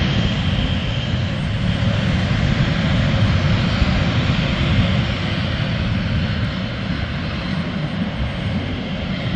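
Aircraft at an airport runway, a loud continuous engine roar that holds steady throughout, close and alone with no voices.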